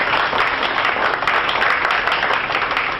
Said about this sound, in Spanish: Creo que se merece otro aplauso todavía más fuerte que el anterior